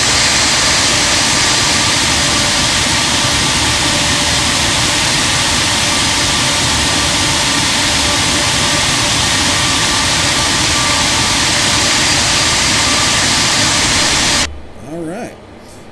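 Simulated Boeing 747-200 jet engines in X-Plane 12 hold a loud, steady, broadband roar with a low rumble and faint high whine, continuous for about fourteen seconds before cutting abruptly to a quieter hum.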